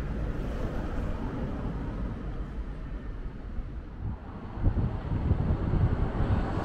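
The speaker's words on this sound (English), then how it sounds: "It's getting a bit windy now" Outdoor wind buffets the microphone in a steady, low rumble that swells slightly toward the end, with no one speaking.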